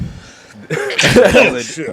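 A single loud sneeze bursts out close to the mic, with a voice speaking just before and talk continuing right after.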